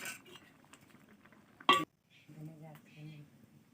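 A spoon stirs vegetables in a kadhai: faint scraping and shuffling, one sharp metallic clink partway through, then soft cooking sounds.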